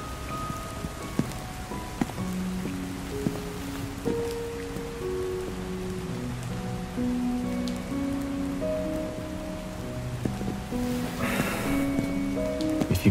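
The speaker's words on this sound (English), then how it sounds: "If you keep this up, we're going to be completely soaked in the rain." Steady rain falls in the video game Love and Deepspace, a dense, even patter that runs the whole time beneath soft, sustained musical tones, with no voices.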